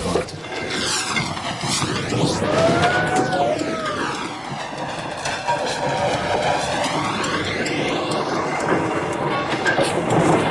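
A heavy 1942-built steam roller from Flensburg rolls out, giving a loud, continuous mechanical rumble and clatter with shifting, sweeping tones throughout. No voices are heard.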